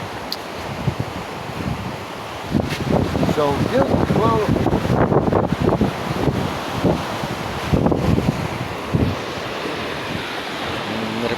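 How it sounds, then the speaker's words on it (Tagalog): Steady wind rushes across open water aboard a boat at sea, with surf-like wash filling the background while a person talks over it. "Sarap ng hangin."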